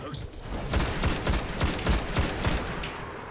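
A single-shot gun in the video game Destiny fires about seven sharp shots in a quick, even rhythm, loud and close, against a dense background of game noise.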